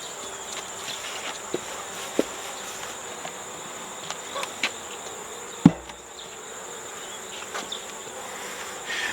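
Honeybees hum steadily around an open hive box, a continuous close buzz punctuated by a few sharp knocks and clicks of equipment, with no talking.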